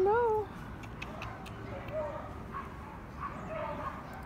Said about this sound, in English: the house behind me, they let all the dogs out